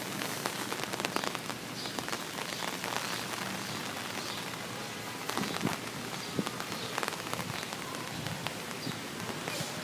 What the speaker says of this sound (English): now it's raining at a pretty good clip.